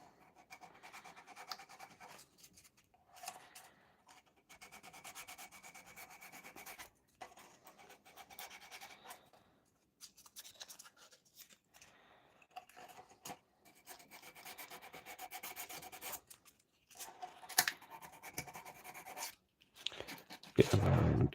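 Sanding and filing on plastic model kit parts for a Trumpeter PLA Navy Type 054A frigate, removing glue and paint: steady close rasping strokes in repeated bursts with short pauses, ending in a louder scuffing burst.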